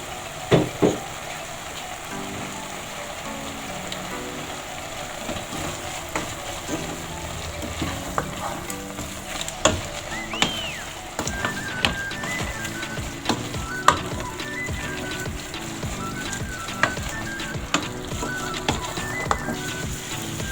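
Tripe (matumbo) fries with salt in a pan, sizzling steadily up close while a utensil stirs and scrapes in repeated irregular strokes throughout.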